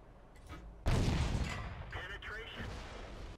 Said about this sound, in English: That's nice having a gun that fires a little faster